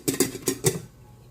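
A lid set onto a cooking pot of chicken soup, giving four quick close metallic clinks and rattles in under a second before going quiet.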